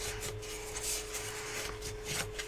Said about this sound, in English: So let's find our bone folder. Right, let's start here. I'm gonna just give this a really good burnish.